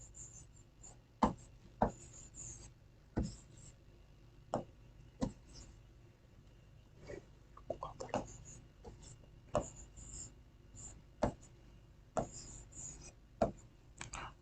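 Chalk or marker taps and short strokes on a board during a classroom lesson, a sparse series of distinct sharp ticks spaced irregularly, fairly quiet against a faint room hum with no talk.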